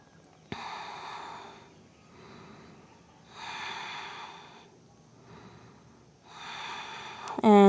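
Slow, audible breaths drawn in and out during a deep hip stretch in a yoga flow, three soft swelling exhalations spaced a couple of seconds apart, close and quiet, ending in a brief sharp noise.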